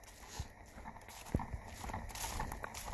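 Faint hoof clip-clops of mules walking, a few soft irregular steps over steady outdoor background noise.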